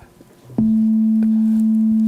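A pure, steady sine test tone switches on abruptly and holds loud and clean, preceded by a brief low blip and faint room noise, with no voices.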